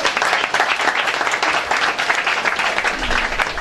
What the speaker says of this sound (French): On acclame le frère